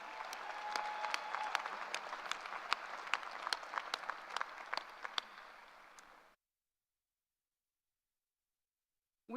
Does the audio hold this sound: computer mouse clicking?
no